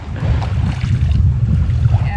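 Steady roaring wind buffeting the microphone on a desert beach at La Paz, Baja California Sur, loud and continuous, with a low rumble of surf or water beneath it.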